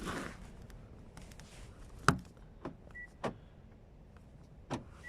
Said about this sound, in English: Make sure on both sides they lock and unlock the car